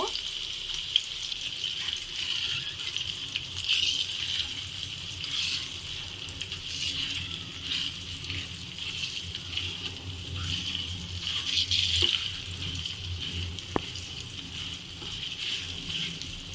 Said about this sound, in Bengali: ডিমগুলা লাল লাল করে ভাজা হওয়া পর্যন্ত একটু অপেক্ষা করব।